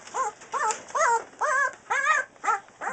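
A three-week-old Newfoundland puppy lets out a series of about seven high, close whimpering yips in an even rhythm, with clear pauses between them.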